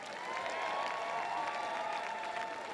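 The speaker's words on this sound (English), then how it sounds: "Give them one last round of applause because they're amazing" Audience applause, a steady wash of distant clapping that holds at an even level, with a faint tonal hum running underneath.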